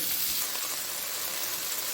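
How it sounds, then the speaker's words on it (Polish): Meat browning in a hot frying pan: a steady, dense sizzle and crackle, close and even, with no talking. "Smażymy do momentu, aż z każdej strony będą miały piękny złocisty kolor."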